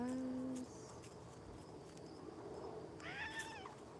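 A cat meows twice, once briefly at the start and again near the end, with quiet indoor background in between.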